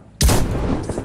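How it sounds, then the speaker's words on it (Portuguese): A single sharp, loud gunshot from the video game Knives Out, a booming crack followed by a short rumbling decay. "Ai, cara, errei o tiro."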